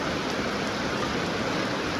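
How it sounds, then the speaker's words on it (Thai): Steady rain falls during a Thai market trip, a dense and even hiss that keeps a constant level throughout, with no voices. "พี่น้องฝนตกเนาะ"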